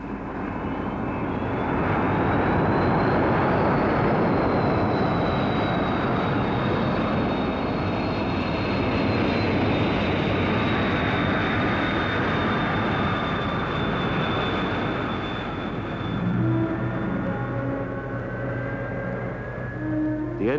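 XB-70 jet aircraft flying with its powerful jet engines, a sustained loud roar with a slowly falling whine that continues for the whole stretch, with music entering near the end.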